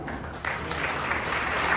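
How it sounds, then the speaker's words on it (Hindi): Brief steady applause from an audience in a hall during a motivational seminar, a dense wash of clapping with no clear individual claps. "उन लोगों के लिए जोरदार ताली"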